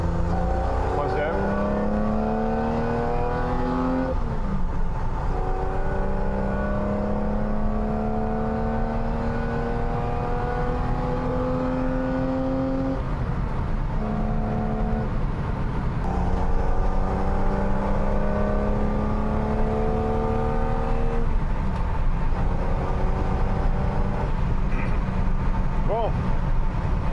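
Freshly restored BMW Z1 roadster pulling through the gears, the engine note climbing steadily in each gear before dropping at every shift, heard from inside the car with a steady road rumble underneath.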